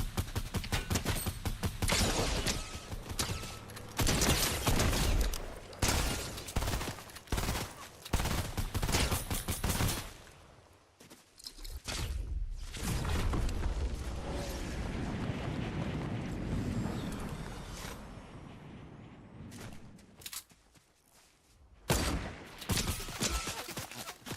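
Rapid bursts of Fortnite gunfire, loud and dense, with short pauses between volleys and a brief lull in the middle.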